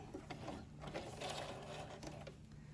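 A sewing machine back stitching fabric for a sheet mask, a short steady mechanical whir running close and continuous for under three seconds.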